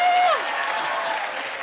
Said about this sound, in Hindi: जुगल सर के लिए एक बार ताली हो जाए।